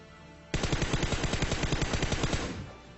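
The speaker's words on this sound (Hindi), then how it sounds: "सामने से ग्रोजा MK AWM कार 98 सारी गनें चल रही थी" Rapid automatic gunfire from Groza, M416, AWM and Kar98 weapons in PUBG Mobile, with a dense run of loud, evenly spaced shots lasting about two seconds, then fading out.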